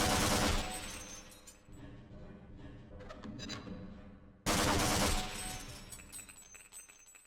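Grenade launcher rounds in Half-Life burst in two loud blasts several seconds apart, each a sudden booming explosion with a rumbling, debris-rattling tail that slowly decays.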